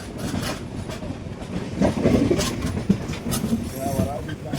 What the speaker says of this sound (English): The train has also become slow,